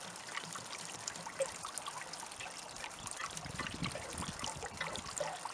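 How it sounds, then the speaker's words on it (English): Water trickles and pours steadily out of an RV trailer's hot water tank drain as the tank empties, a continuous close splashing dribble with no talk. "this water would have been in the hot water tank, and this will take a few minutes to drain"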